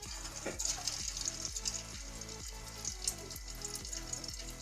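Sabudana vada frying in hot oil, a close, steady sizzle and bubbling with a regular rhythmic pulse throughout.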